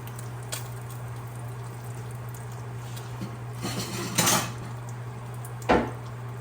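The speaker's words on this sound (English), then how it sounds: "Alright guys, we're going to be washing out that pot." A cooking pot being washed out, steady running water and background hum with a few clattering knocks and scrapes of the pot, no talk.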